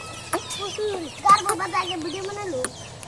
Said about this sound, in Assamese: কুকুৰা পোৱালি চাওক কি কৰি আছে